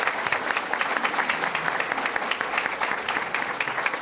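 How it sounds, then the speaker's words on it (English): Audience at a public forum on Chicago homicides gives steady, dense clapping that carries on evenly for a few seconds, with no voices over it. "Round of applause."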